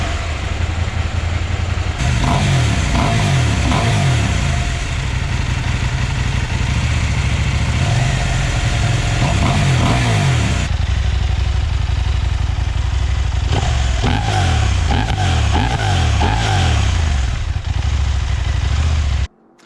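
A KTM 890 or 790 Adventure R motorcycle engine runs close and loud for the whole stretch, with repeated revs rising and falling over a steady idle and a mechanical clatter throughout.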